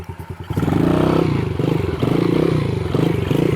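A motorcycle engine revs hard and loud up close during a wheelie attempt, its pulsing throttle rising and surging over a few seconds with some rattling clatter.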